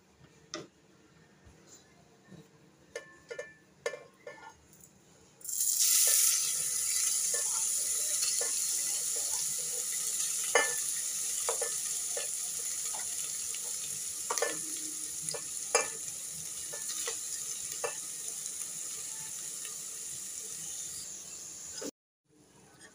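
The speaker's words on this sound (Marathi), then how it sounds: "आता हे आपण तुपामध्ये सर्व मिक्स करून घेऊया आणि साखर पूर्ण वितळेपर्यंत आणि खोबरं आणि साखर एकत्र छान मिक्स होईपर्यंत व्यवस्थित ढवळत राहूया." Sugar and grated coconut sizzle as they drop into hot ghee in a pot, after a few light clinks, then a steady frying hiss with scattered scrapes and taps of a stirring spoon.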